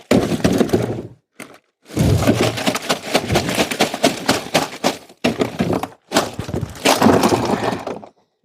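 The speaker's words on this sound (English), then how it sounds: "I'm going to take this ice, empty it out." Ice is dumped out of a container to make an ice slurry for crappie on a fishing trip, loud close bursts of rattling, cracking and clattering cubes separated by brief pauses.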